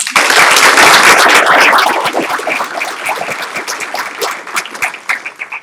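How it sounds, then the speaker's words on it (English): Audience applause for teachers of the year at a school board meeting, loud and dense at first, then thinning into scattered individual claps as it fades out. "let's give all of our teachers of the year a big round of applause"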